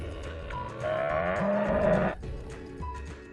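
A cow moos in a long, drawn-out low call, loud and close, with a shorter second moo near the end in a farm setting.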